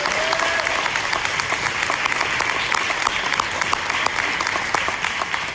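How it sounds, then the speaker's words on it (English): A large audience at a scholarship luncheon claps loudly and continuously, dense applause filling the whole stretch with a faint murmur of crowd underneath. "let's give Ms. Leslie Marks a rousing applause again."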